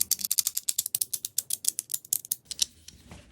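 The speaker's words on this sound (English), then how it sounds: "Load the magazine fully." Rapid mechanical clicks come from rounds being loaded one after another into a miniature toy gun magazine, close and crisp in an even rhythm that slows near the end.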